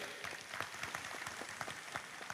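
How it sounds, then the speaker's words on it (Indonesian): A small audience at an Indonesian religious gathering claps briefly and fairly faintly, with quick, uneven hand claps blending into a soft patter. "Tepuk tangan untuk PLB."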